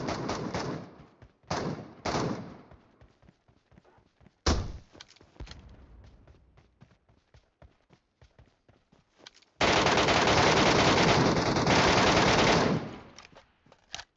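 Gunfire from PUBG Metro Royale comes in sharp bursts: short automatic volleys and single cracks scattered throughout, then a long, dense, loud stream of rapid fire before it tapers off.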